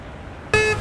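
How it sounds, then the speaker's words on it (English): A car horn on a street beside a picket line of striking GM autoworkers gives one short, loud, sustained honk that cuts in abruptly over low traffic rumble and ends after a fraction of a second. "we get a lot of honks all day long"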